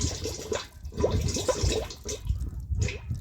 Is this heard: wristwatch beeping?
no